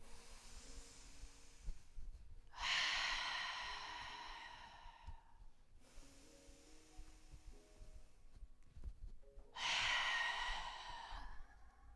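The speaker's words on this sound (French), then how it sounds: "Expire par la bouche" Two long, breathy mouth exhalations during a yoga breathing sequence, each a soft rushing whoosh that starts strong and fades over a few seconds, separated by quiet pauses.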